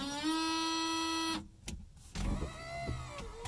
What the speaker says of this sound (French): un très bel essuie-glace. Voilà. Qui fonctionne très bien. Avec son lave-glace.